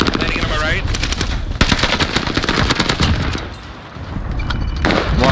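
Rapid machine gun fire rattles in the video game Warzone Pacific on the Caldera map, dense bursts of shots with brief lulls, loud and close, with a voice talking over the gunfire.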